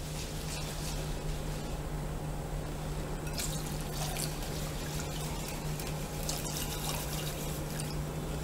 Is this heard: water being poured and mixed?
yes